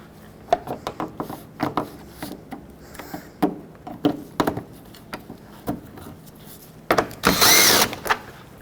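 A power tool backs the 10mm bolts out of a 2007-2010 Chrysler Sebring during headlight removal, sounding as a run of short close ratcheting bursts and clicks that ends in one sustained whirring spin.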